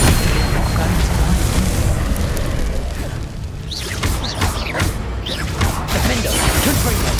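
Confringo fire spells in Hogwarts Legacy burst in a series of booming, crackling explosions amid combat clatter, loud and continuous, while a voice speaks over the action.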